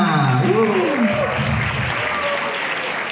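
Pesantren students applauding at a talent competition, a crowd clapping steadily under a voice speaking over it near the start.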